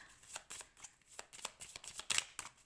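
Tarot cards are shuffled for a reading, making a soft, quick, irregular series of riffling and sliding card flicks, close by and faint, with no voices.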